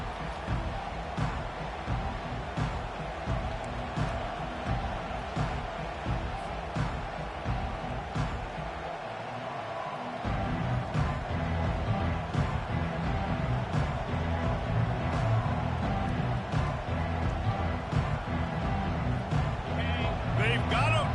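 Stadium crowd at a Stanford vs Georgia college football game: a sustained, distant roar of cheering fans that swells louder in the second half, with an announcer talking over it throughout.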